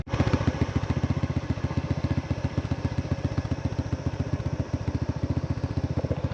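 A scooter rides along a rough road in Pokhara, its small engine putting out a steady, close, rapid pulsing drone with a rattly clatter that continues throughout.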